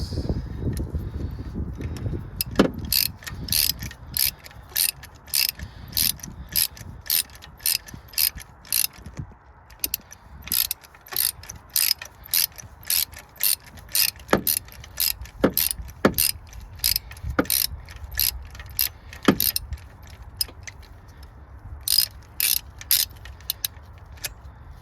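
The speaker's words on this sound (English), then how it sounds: "the spark plug will be easy to remove with this socket." A magnetic ratchet socket loosening a spark plug on a Nissan Juke: rapid, regular ratchet clicks in repeated bursts, close and crisp, with occasional louder metallic snaps and soft handling noise between strokes.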